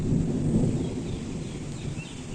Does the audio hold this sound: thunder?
yes